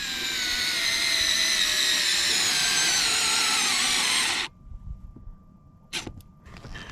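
A power screwdriver with a 7mm socket driving a screw on a 2008 Ford Mustang door panel: a loud steady motor whine for several seconds that cuts off abruptly, followed by a few small clicks and handling noises.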